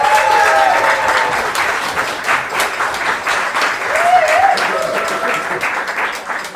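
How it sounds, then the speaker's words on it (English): Loud, close applause and cheering from the audience at a poetry slam as the next poet is called up, dense clapping that holds steady, with a couple of whoops rising above it. "Please give a big round of applause for Natasha Dix."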